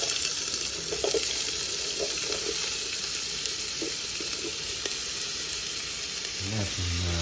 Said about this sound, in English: So the pot is hotting and I have olive oil in there. So first I'm gonna put the onions in.